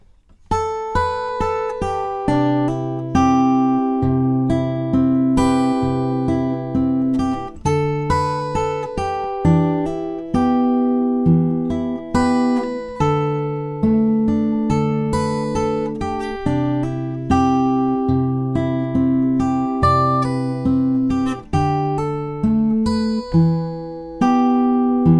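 A guitar plays the opening half of a song intro, picking a steady melodic line of ringing notes over repeating lower bass notes, sustained and clear for about twenty-five seconds with no voices.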